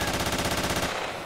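Sustained automatic gunfire from a video game, a rapid even stream of shots draining a magazine for nearly a second before cutting off, loud and close with no talk over it.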